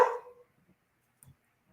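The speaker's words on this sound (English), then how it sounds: "Reba's barking at you, Donna." A single dog barks close by in a short, loud opening burst that fades quickly, leaving near silence with only faint, scattered small noises afterward.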